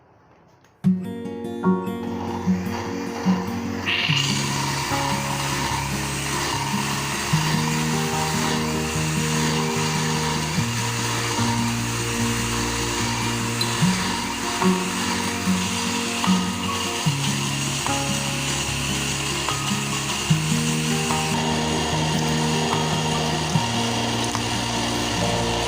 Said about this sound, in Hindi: और इसको इतना ब्लेंड करेंगे कि ये एक पेस्ट बन जाए।